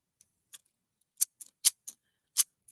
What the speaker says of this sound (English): I've got one of the crafting edgers scissors, and this one, nice round scallop design.